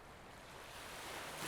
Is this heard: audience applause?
no